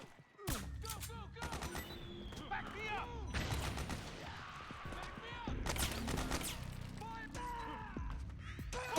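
Gunfire in Metal Gear Solid 4: Guns of the Patriots, sharp shots and rapid bursts in clusters over several seconds, with someone talking over the action.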